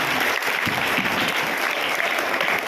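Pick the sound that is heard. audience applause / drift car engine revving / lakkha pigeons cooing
audience applause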